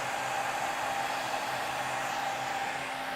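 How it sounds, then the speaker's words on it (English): Thickness planer cutting a wooden board, a steady loud broadband roar with a faint tonal whine that holds unchanged for a few seconds, with no talking. "with the thickness planer. I don't want to stress the machine. Okay, there's our first cut."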